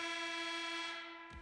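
A loud, sustained electronic horn signals the end of a period in the NHL 25 hockey game, holding a steady tone before cutting off as crowd noise swells underneath.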